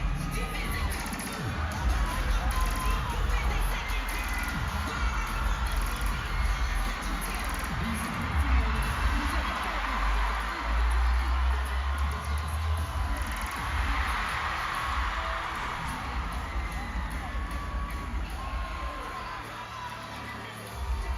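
A large crowd cheers and shouts continuously at a live event, a dense roaring wash with whoops rising and falling over about twenty seconds.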